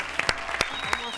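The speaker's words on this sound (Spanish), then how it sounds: "Un aplauso grande." Studio audience applause on an Argentine TV variety show, a burst of clapping from the live crowd mixed with a few voices, steady and fairly loud for its short length.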